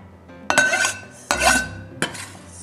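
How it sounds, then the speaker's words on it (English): Chopped plum salsa is scooped into a bowl in three distinct close clinks and scrapes of a utensil against the dish, each followed by a short wet rattle, with nothing spoken. "scoop that into the bowl"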